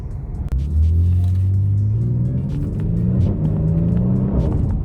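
A 2022 Genesis G70 engine rumbles and revs up steadily onto a highway, pitch climbing as it accelerates, close and continuous with no talking.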